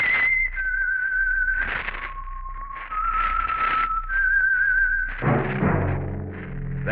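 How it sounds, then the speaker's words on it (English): A lone whistler carries the signature theme of the Whistler radio show, a clear, melodic tune of held and gliding notes in the 1940s broadcast style, with a low thump and muffled orchestral tones entering near the end. "That whistle is your signal for the Signal Oil Program, The Whistler."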